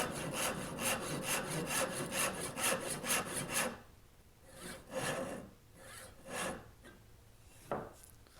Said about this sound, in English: I'm sawing down to those 2 lines